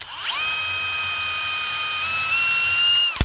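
A power drill with a countersink bit bores into a door hinge on a poorly made Jeld-Wen pre-hung door, giving a steady high motor whine for about three seconds before it cuts off sharply. It sounds close and loud, with no talk over it.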